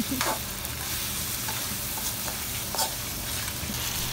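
Seafood with shrimp frying in chilli garlic sauce in a pan, stirred steadily, giving a continuous close sizzle with occasional scraping clinks, no talking.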